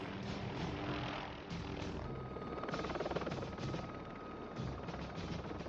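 MD-500 helicopter hovering out of ground effect in the 1983 film Blue Thunder, a steady loud rotor and turbine roar with dense rumbling noise throughout, no voices.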